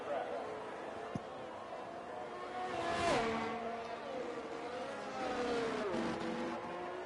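A McLaren race car engine in a racing video game whines at high revs, rising and shifting through gears at moderate distance while a commentator talks over it throughout.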